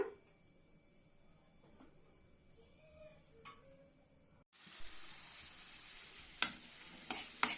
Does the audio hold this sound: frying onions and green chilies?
yes